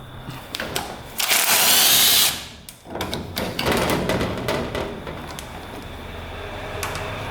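A power tool works a bolt loose on a UTV, revving in loud bursts with a sustained high-pitched whine in the middle, then rattling and thumping close by.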